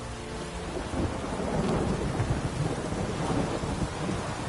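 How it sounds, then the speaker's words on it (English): Thunderstorm in The Witcher 3, with heavy, steady rain and a deep, rolling rumble of thunder that swells through the middle, loud and continuous with no talk over it. "A storm, damn it."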